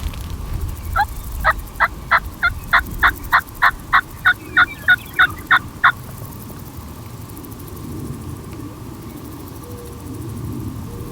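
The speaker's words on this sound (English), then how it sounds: "I was hearing the jake gobble" Wild turkeys, a jake and a longbeard, gobble outdoors in a rapid run of about a dozen evenly spaced rattling bursts at moderate distance. Quiet woodland ambience with a low rumble follows.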